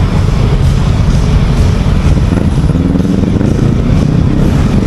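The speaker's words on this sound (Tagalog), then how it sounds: "Yung mga Yamaha na motor, test nila." Yamaha motorcycles being test ridden at a racing moto show, a loud continuous engine roar and clatter filling the whole stretch with no pauses.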